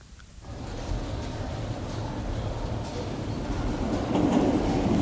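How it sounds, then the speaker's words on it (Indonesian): A passenger train pulls into Melbourne with a steady, broad rumble of wheels and carriages that slowly swells louder, close by and continuous, with no voices. "kereta api yang ditumpangi teman-teman kita tiba di Melbourne"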